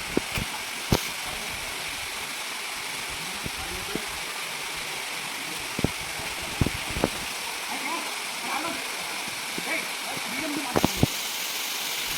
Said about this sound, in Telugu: ఇక్కడ వాటర్ ఫాల్ జరుగుతుంది